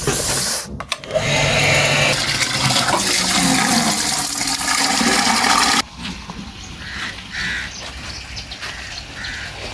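A water pump (injector) fills drums on a buffalo farm: a loud, continuous rush of gushing water and machinery noise that abruptly drops to a quieter steady flow partway through, with faint outdoor background sounds.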